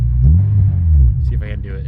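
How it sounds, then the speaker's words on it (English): Honda S2000 with an exhaust rattle, driving: a steady low engine and exhaust rumble fills the clip, with a voice speaking over it near the end. "She's got an exhaust rattle."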